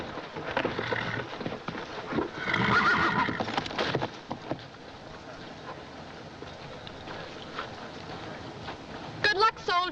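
A horse whinnies loudly up close, then hooves clop along at a steady pace, with a second neigh near the end.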